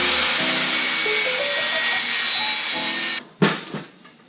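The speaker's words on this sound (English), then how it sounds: "we're gonna have to straighten this with the angle grinder" An angle grinder works a metal Miata downpipe, holding a loud, sustained high whine with wavering pitch that cuts off abruptly near the end, followed by a couple of sharp metallic knocks and scrapes.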